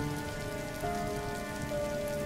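Heavy rain pours steadily on a surface at night, a dense, continuous patter with no gaps and no voices.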